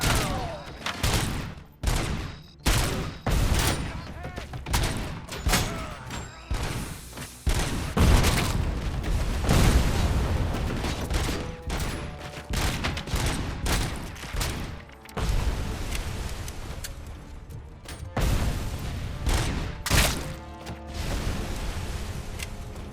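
Explosions and gunfire fill a RoboCop: Rogue City firefight, with repeated heavy booms from grenades landing close together amid bursts of shooting, loud and chaotic across the whole stretch.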